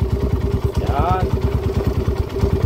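A Honda TMX155 motorcycle converted to 200cc idles close by with a steady, loud, rapid thumping beat; a brief high chirp rises over it partway through.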